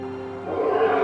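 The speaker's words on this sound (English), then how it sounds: "The lion's roar is a territorial declaration." A lion on the South African plains gives a deep, rumbling roar that swells louder toward the end. The sound is brief and close, and no speech is heard.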